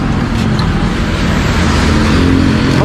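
A vehicle engine runs at a steady, loud idle close by after being restarted following a gasoline run-out, with a continuous rumbling drone and no talk.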